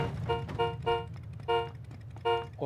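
Car horn honking in the PUBG battle royale game, four loud repeated toots with a steady harmonic tone over a low engine rumble.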